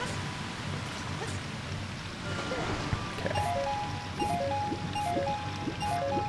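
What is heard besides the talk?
waterfall rushing in video game Ocarina of Time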